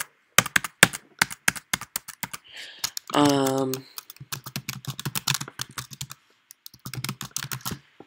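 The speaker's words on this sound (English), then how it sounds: "So now you want to type in all of your info." Rapid keyboard typing on a computer keyboard while entering payment details at an online checkout, close and crisp taps in irregular bursts, with a short tonal beep in the middle.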